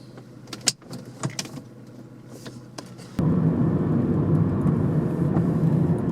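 Toyota or Lexus car driving off after an idle reset relearn, a quiet interior with a few clicks and knocks, then steady broadband road and engine noise rising abruptly and holding loud to the end.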